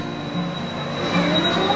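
The Runaway Mine Train roller coaster at Cultus Lake Adventure Park rumbles steadily along its rails with a thin metallic wheel squeal, a continuous loud roar with no voices over it.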